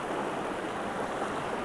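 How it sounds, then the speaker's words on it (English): A wild brook trout creek in a mountain state park flows in a steady, close rush of water with no breaks and no voices. "This is a wild brook trout stream"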